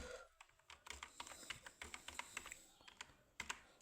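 Quick, irregular clicks of fingers typing on a computer keyboard, close and fairly quiet, with brief pauses between bursts of keystrokes.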